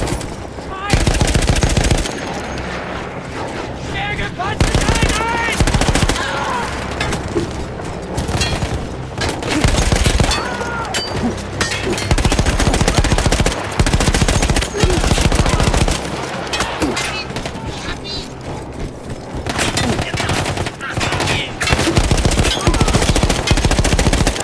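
Mounted machine gun in Battlefield 1 firing long, loud sustained bursts, rapid dense rattling with booming explosions mixed in and only brief pauses between volleys.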